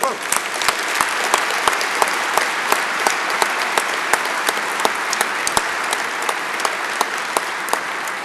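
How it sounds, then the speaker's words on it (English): Sustained audience applause for honorees at a university event luncheon, a steady dense wash of many hands clapping with sharp individual claps standing out, loud and continuous throughout. "would you all please give all of the honorees one final round of applause to everyone"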